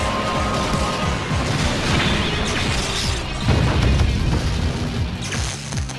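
Rocket Punch impact in the mecha game Super Robot Taisen BX, a loud crashing smash with metallic mechanical clatter and a heavy booming hit midway, no talking.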